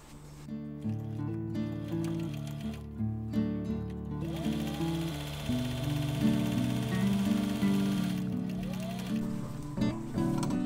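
A sewing machine stitches the brim seams of a fabric wizard hat, running in a steady close mechanical whir with short pauses and restarts, alone without talking.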